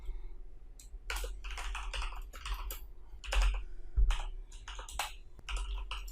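Rapid typing on a computer keyboard while writing code, a steady close run of light key clicks in uneven bursts with a few heavier thumps, no voices.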